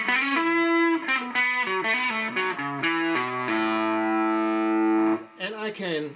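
Electric guitar played through a Hughes & Kettner Crunch Master tube preamp, loud and distorted, with sustained chords and single notes ringing in a steady phrase, ending in a brief burst of picking.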